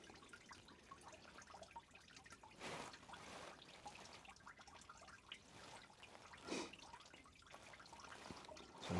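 Coolant draining out of a Porsche Boxster engine in a garage, a quiet steady trickle and drip of liquid with a couple of brief louder splashy surges, no talking.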